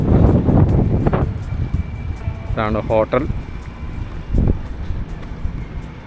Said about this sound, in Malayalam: ഭയങ്കര കാറ്റാണെന്ന്, ഒരു രക്ഷയില്ലാത്ത കാറ്റ്